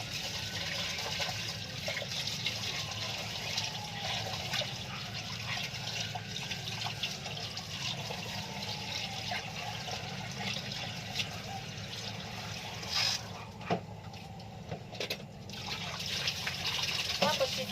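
Steady water splashing and trickling as uncooked rice is swished and rinsed in a pot before cooking, with a person talking over the sloshing.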